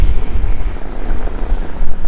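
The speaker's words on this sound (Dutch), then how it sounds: "Wat een ongelooflijk dikke wind." Strong wind buffets an outdoor microphone, a continuous loud low rumble with gusty surges and no break across the whole stretch.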